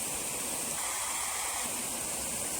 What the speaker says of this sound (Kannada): ಇಲ್ಲಿ ಒಂದು ಜಲಪಾತನ ಸೃಷ್ಟಿಯಾಗಿದೆ ಇಲ್ಲಿ ನಿಮಗೆ ಸೌಂಡ್ ಕೇಳಿಸ್ತಾ ಇರ್ಬೋದು